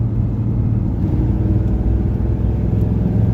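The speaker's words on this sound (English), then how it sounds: "it has that Chevy growl that I absolutely love" A 1999 Chevrolet Camaro convertible engine rumbles with a steady, deep, close growl, no voices.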